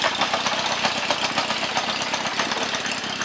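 A Yamaha FZR motorcycle under restoration, stripped of its fairings, runs with a loud, close, steady engine drone and slight pulsing throughout.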